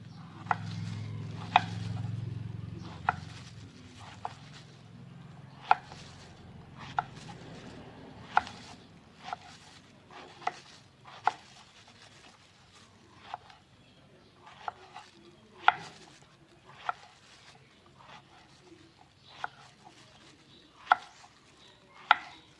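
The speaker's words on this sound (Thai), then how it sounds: "หั่นก่อนนะเจ้า หั่นมาซอยก่อนเนาะ" A knife repeatedly chops luffa gourd on a cutting board while preparing a Thai stir-fry of luffa with egg. Crisp, close knocks fall in an uneven, steady rhythm over a low background hum, with no talking.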